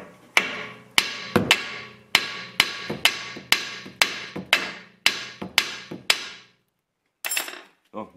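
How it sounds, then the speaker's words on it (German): A small hammer taps on the ball joint of a VW Touran control arm during a steering repair, about a dozen sharp metallic strikes in quick bursts with ringing decay, close up, then a pause and a few softer knocks. "jetzt habe ich mal mit einem Hämmerchen hier drauf"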